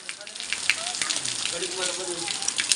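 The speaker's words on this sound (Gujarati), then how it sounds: "ધમધોકર વરસાદ ચાલુ થઈ જશે" Heavy rain pours down on a village yard, a dense, steady patter close by with a few louder drops, while a voice murmurs faintly underneath.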